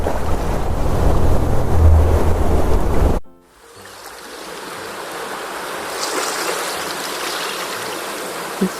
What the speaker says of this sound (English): So peaceful ocean waves, calming